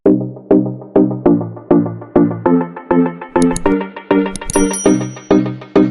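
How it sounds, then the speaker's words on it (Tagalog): A bright notification bell ding plays repeatedly in a steady rhythm of about ten chimes, loud and close, ringing alone with no voices. "pindutin ang notification bell"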